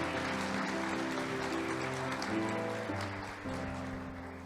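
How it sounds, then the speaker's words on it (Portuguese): Congregation applauding during a church service, a dense steady clapping under a sustained tonal music bed that fades slightly toward the end. "Quem recebe, aplaude o Senhor em nome de Jesus."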